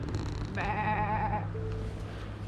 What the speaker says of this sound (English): Morning sheep.